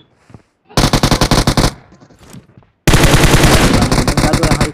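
Automatic gunfire in the mobile battle royale game BGMI: a quick burst of rapid shots, a short lull with faint game sounds, then a second, longer loud burst of rapid fire close up.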